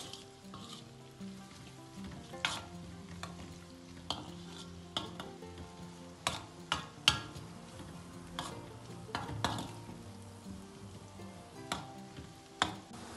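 Onions fry in a pan with chili powder for püşürük aşı, a dish from the Van region: a steady sizzle with scattered utensil clicks and scrapes as the mixture is stirred.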